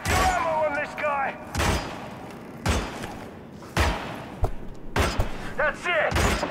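Gunfire in the video game Hitman comes as a series of sharp, loud shots spaced irregularly across several seconds, with someone talking between them.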